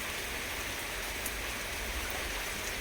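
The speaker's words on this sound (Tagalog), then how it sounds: "Welcome under the rain" Steady rain pours down as a dense, even hiss of drops on surfaces, continuous and close with no pauses.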